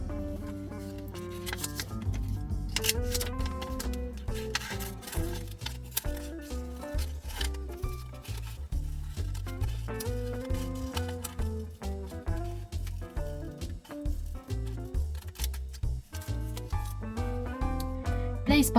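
Scissors snipping through felt shapes for a quiet book page, a quick run of short crisp cuts in a steady rhythm, close and clear throughout.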